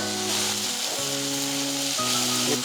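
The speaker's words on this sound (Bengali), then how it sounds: "মশলাটা আমার ভাজা হয়ে গেছে, দেখেন তেল ছাইড়া দিছে।" Spice masala sizzling in hot oil for an aloo paneer curry, a steady close-up frying hiss with a faint tonal hum underneath, continuous throughout with no talking.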